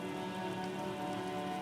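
Rain falling in the detective game Disco Elysium, during a scene stuck in a traffic jam: a steady, dense patter on surfaces that holds evenly throughout, with a faint low hum beneath and no voices.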